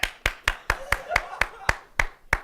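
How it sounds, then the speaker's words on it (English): Sparse, evenly spaced claps from a studio audience on a cooking show, about ten sharp hits at a steady rhythm, fairly close and mid-level, with a faint voice murmuring underneath. "let's hear by round of applause who thought that my eggs were the best"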